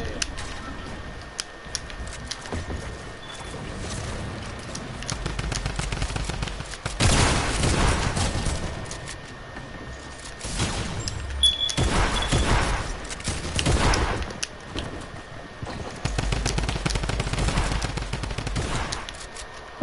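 Bursts of video game gunfire crackle in clustered volleys, loud fusillades separated by quieter stretches of faint background action, with no voices.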